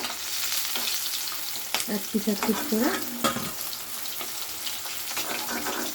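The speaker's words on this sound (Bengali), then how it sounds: "উল্টে পুরো ছাঁকা তেলেই ভাজছি মাছটা" Hilsa fish pieces fry in deep oil, a continuous close crackling sizzle with clatters of a utensil turning them, and a brief spoken comment partway through.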